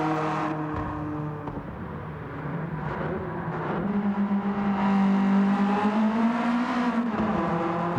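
Inside a Honda DC2 with an upgraded exhaust on the Nürburgring, the engine drones and then climbs steadily as it revs higher, a loud buzzing cabin tone rising in pitch with no talk.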